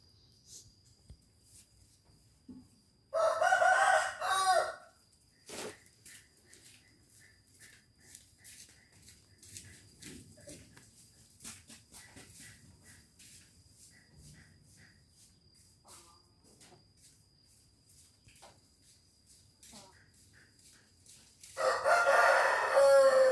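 Fighting roosters crow loudly and close twice, one long crow near the start and another at the end, over a steady chirping of crickets and scattered clucks and rustles.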